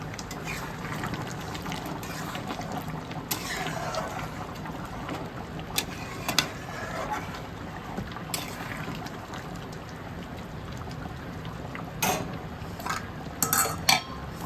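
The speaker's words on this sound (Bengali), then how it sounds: "ঢাকাটা খুলে একটু নাড়িয়ে দিচ্ছি" A cooking pot's lid comes off and a spoon stirs inside, with occasional sharp metallic clinks and scrapes over a low, steady background hum.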